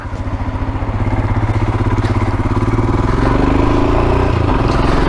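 A motorcycle engine chugging loudly and close in a steady throbbing pulse, gradually building as it sets off on a winter road ride, no voices.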